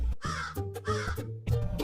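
A crow gives several quick, harsh caws in a row, close and clear, with no other sound.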